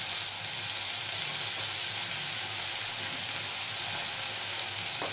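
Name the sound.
onion paste frying in oil with five-spice tempering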